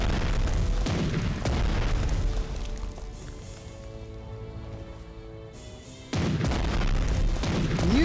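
Heavy naval guns booming in a World War II strategy game, with the German battleship Bismarck and the Scharnhorst engaged in combat. Loud deep blasts sound near the start, a lower rumbling stretch follows, and then a fresh heavy burst of firing hits near the end.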